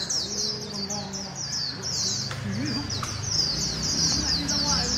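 A white-eye bird sings a rapid run of high, twittering, slurred notes, close and clear, over a low background rumble and faint other calls.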